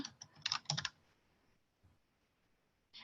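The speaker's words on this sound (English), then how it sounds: "I could type in here somebody's name" A name is typed on a computer keyboard in a short flurry of close, crisp key clicks lasting under a second, followed by near silence and a final soft keystroke.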